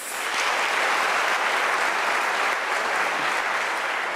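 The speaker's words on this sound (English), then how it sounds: "May we give her a warm round of applause?" Warm, sustained applause from a large audience at a university graduation ceremony, dense and even throughout, with no voices standing out.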